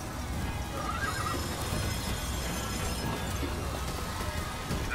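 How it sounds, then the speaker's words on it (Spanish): A mechanical horse whinnies in Bioshock Infinite over a steady wash of noise, with a faint clattering of hooves and a rain-like hiss running underneath throughout. "Mecánico, el semental automático, el caballo del futuro"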